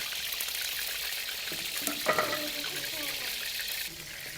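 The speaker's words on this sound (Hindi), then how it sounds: "तो अभी हम मछली जो है ना इसको कर लेते हैं फ्राई" Four pieces of fish fry in oil in a kadhai wok, giving a soft, steady hiss with a brief bubbling flare near the middle.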